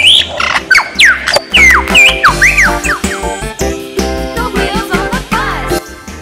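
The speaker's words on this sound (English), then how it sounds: "Bird of paradise." Shrill, squawking bird calls with rising whistled notes ring out over a bouncy musical backing, repeating several times.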